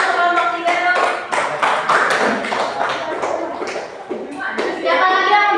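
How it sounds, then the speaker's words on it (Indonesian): Schoolchildren in a classroom clap for a student group, quick rhythmic hand claps filling the room, loud and close, with children's voices calling out over the clapping. "tepuk tangan untuk kelompok 3 dong"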